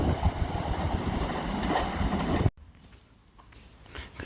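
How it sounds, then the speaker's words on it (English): A train on the Brighton to London Victoria line rumbles past close by with rattling wheels and clatter, then cuts off abruptly, leaving quieter track-side ambience with light rain. "Got a train pass through from Brighton to London Victoria"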